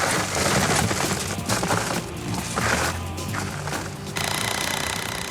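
A cordless impact driver driving a lag bolt, hammering steadily, loud, rapid rattling bursts with brief pauses, close by outdoors.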